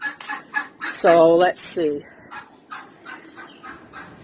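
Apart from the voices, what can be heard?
turkeys clucking in the barn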